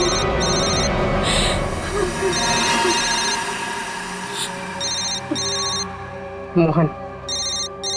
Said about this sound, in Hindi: फोन उठाओ, स्पीकर पे डालो